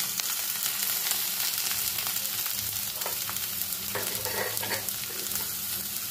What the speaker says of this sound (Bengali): এবার এর মধ্যে আমি লম্বা টুকরো করে কেটে নেওয়া পেঁয়াজটা অ্যাড করে দেব।